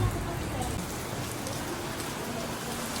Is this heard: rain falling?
yes